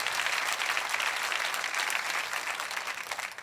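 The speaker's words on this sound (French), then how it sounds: "Voulez-vous applaudir avec moi?" A church congregation claps together in steady, dense applause that fills the room at moderate volume and continues without a break.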